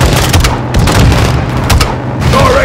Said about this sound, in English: Guys, hit with the launcher!